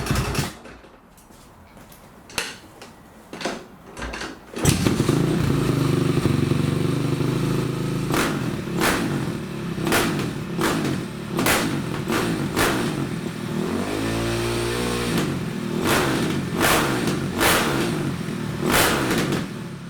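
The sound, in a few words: Honda CRF450 dirt bike engine idling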